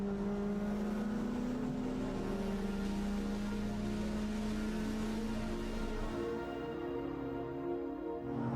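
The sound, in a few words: street racing car driving on the C1 loop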